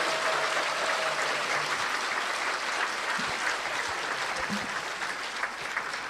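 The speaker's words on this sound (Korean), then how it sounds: "힘찬 박수 한번 쳐주십시오." Sustained, even applause from a large audience at a ceremony marking the sixth anniversary of the October 4 inter-Korean summit declaration, a full steady roar of clapping with no voices on top.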